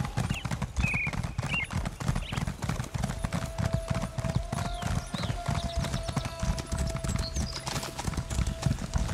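Horse hooves clip-clop in a quick, steady rhythm, paired with a faint sustained tone, from a riding mount in The Elder Scrolls Online on PC. No talk.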